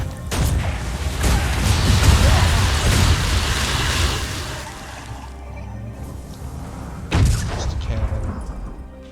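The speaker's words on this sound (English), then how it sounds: "Cannons." Cannons firing in the video game Guild Wars 2, a sequence of heavy booming blasts with rumbling tails, loud and close, with a quieter gap before a final sharp boom.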